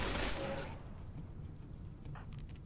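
A loud burst of gunfire at training dummies in RimWorld opens the moment, then fades into quiet background ambience with faint scattered noise.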